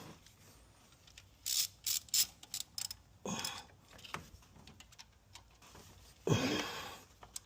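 Ratchet clicking as it snugs down ignition coil bolts on a 2015 Chevy Tahoe engine, bursts of quick close pawl ticks separated by pauses and a couple of louder metallic clunks.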